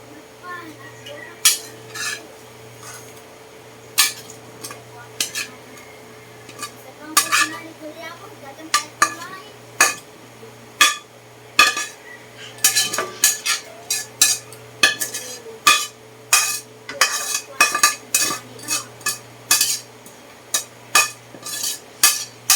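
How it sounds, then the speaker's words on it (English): Browned meat and blanched onions stirred into spaghetti sauce in a pot, with repeated spoon clinks and scrapes against the metal in an irregular rhythm, close up and clear, with no talk. "And I want to stir it into my sauce."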